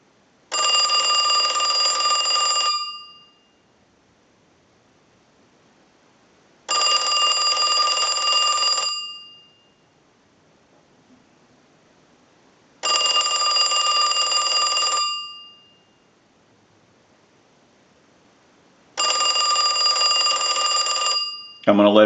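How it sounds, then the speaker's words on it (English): An AT&T Western Electric Trimline telephone bell rings in four long bursts of about two seconds each, evenly spaced with quiet gaps between, loud and close. "send a ring cycle like you were getting a call"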